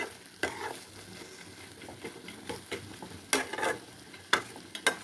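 Spice masala for a pointed gourd and prawn curry frying in a pan, a low steady sizzle broken by repeated sharp scrapes and clicks of a spoon stirring against the pan, close and fairly quiet.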